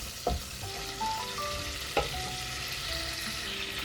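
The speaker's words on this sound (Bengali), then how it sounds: "ফোড়নটাকে একটু ভেজে নিয়ে আর সবজি যা কেটেছি দিয়ে দেবো" Spices for tempering sizzle in a hot pan as cut sweet potato, pumpkin and taro go in. The frying is continuous and close, broken by two sharp clatters of stirring.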